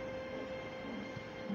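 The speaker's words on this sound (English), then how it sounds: "Thomas puffed along a misty mountain track." A steam engine runs along a misty mountain track in a Thomas the Tank Engine scene, giving a steady mechanical rumble with a sustained tonal hum and a brief clank near the end, all within under two seconds.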